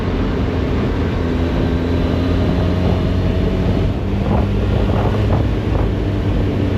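A 1996 Suzuki Bandit 1200 motorcycle rides along a rough road, its engine drone steady and loud beneath heavy wind buffeting on the microphone throughout.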